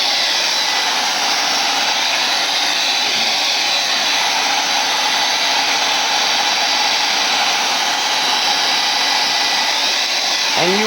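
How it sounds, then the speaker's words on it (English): A hair dryer runs continuously at close range, a loud, steady whooshing hum that never lets up, used while making spray bottle art. "you will be hearing a lot of the hairdryer during this video"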